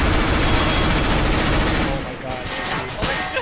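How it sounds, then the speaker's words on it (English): Continuous P90 submachine gun fire in a competitive matchmaking round of a tactical shooter, dense and loud throughout, thinning slightly near the end with bursts continuing. "I'm gonna go fake you with a P90."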